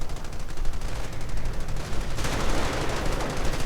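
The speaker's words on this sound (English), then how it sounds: "Panzer's getting stuck by the 30 caliber." A .30 caliber machine gun rattles in sustained rapid bursts within a strategy video game battle, dense continuous firing mixed with other distant gunfire and no speech.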